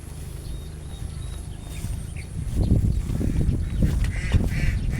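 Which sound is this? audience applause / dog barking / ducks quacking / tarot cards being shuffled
ducks quacking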